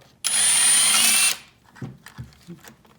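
A power drill or impact tool runs in one steady loud burst of about a second while removing crankcase bolts from a Yamaha YFZ450 quad engine, followed by a few light metallic clunks and handling sounds.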